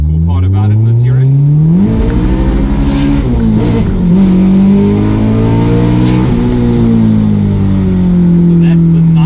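Honda S2000 engine revving up and down in several rising and falling sweeps, loud and close, with a person talking over parts of it.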